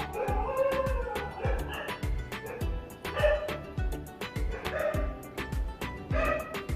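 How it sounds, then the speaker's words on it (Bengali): A dog barks and whimpers repeatedly in a steady run of sharp yelps close by, loud and continuous throughout, with a faint voice in the background. "সরি কুকুরের আওয়াজের জন্য"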